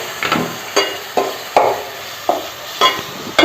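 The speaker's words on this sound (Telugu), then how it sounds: "కొంచెం పచ్చివాసన పోగానే చికెన్ వేసుకుందాం." Ginger-garlic paste frying in a pan for a dry chicken masala curry, with loud, repeated stirring strokes of a spoon against the pan at a steady, unhurried rhythm over a low sizzle.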